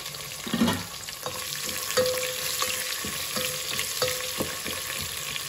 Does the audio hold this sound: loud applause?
no